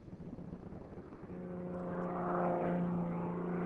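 An aerobatic propeller airplane flies upside down, its engine drone steady and growing gradually louder as it approaches, with no voices present.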